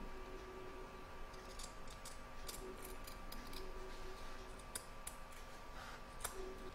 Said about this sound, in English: you're now going to trim up your edge here